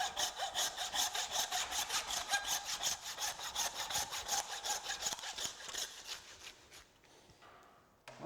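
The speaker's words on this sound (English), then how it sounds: "Then we get the handsaw and saw through the H-bone." A handsaw cutting through a beef H-bone at the rump, with fast rhythmic rasping strokes, close and fairly quiet, steady for several seconds before slowing and stopping.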